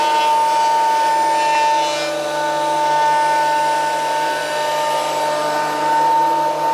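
A Makita 2012NB thicknesser, about a year and a half old and used on oak and birch ply, runs with a loud, steady motor whine and a high tonal hum, its pitch and loudness swelling slightly as the cut goes on.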